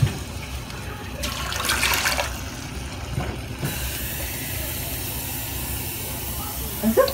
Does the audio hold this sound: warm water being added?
yes